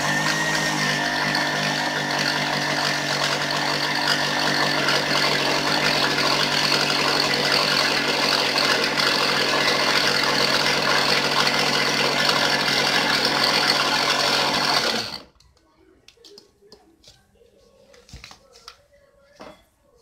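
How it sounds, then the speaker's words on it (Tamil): Mixer grinder grinding soaked rice, a loud steady whirring motor roar held for about fifteen seconds and then cut off, leaving quiet handling noises. "இந்த இதில் மிக்சியில் போட்டு அரைச்சி எடுத்துக்கலாம்."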